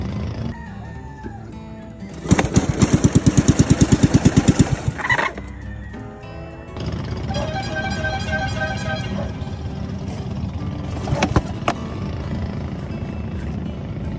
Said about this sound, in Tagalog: tayo umandar ng motor ni Buyok.